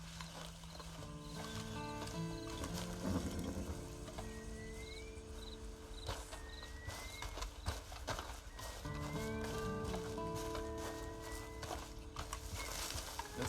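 Horse in a video game, steady clip-clopping hooves and an occasional whinny over a continuous game music bed, moderately loud and sustained throughout with no talking.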